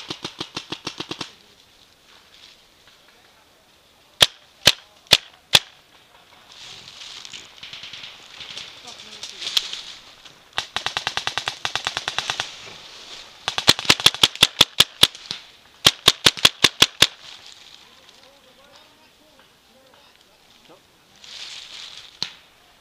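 Gunshots ring out at a military reenactment as distant, sharp cracks, some single and some in rapid volleys, with quieter stretches of outdoor background between them.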